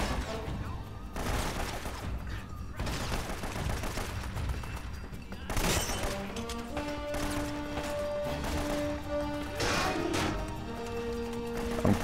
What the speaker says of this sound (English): Guns a-blazing.